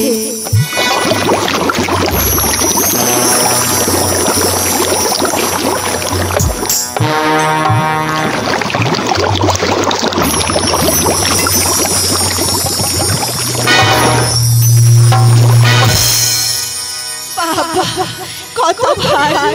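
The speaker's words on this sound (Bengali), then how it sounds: "এখন আমি ঘাটের জল পরিষ্কার করে নিয়ে সেই জল আমি কলসে ভরে নিয়ে যাবো" Water scooped from a bathing ghat and poured into a clay pitcher, loud continuous splashing and gurgling with sloshing bursts, close and dense for the whole stretch.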